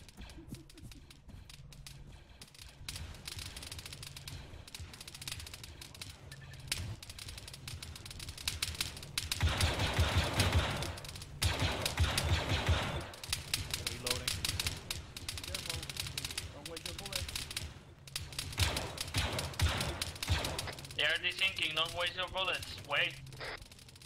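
Game gunfire in the Arma 3 military shooter, rapid bursts of automatic fire arriving in dense clusters amid the squad's radio chatter and callouts, fairly loud with brief pauses between volleys.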